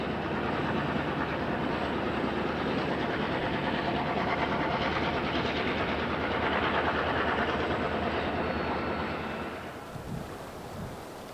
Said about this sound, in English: The ever-present West End yard switcher makes its presence known once more over Clark Road.